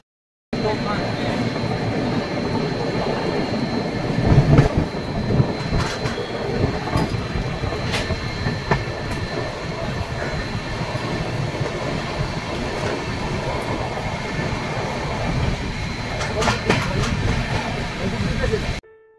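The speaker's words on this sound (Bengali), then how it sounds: "ট্রেন এখন এসে পৌঁছালো চিত্তরঞ্জন রেলওয়ে স্টেশন।" A passenger train rolls along the rails at Chittaranjan railway station on a Durgapur to Ayodhya journey, a sustained rumble with clanks and brief metallic squeals, heard close from inside for nearly twenty seconds.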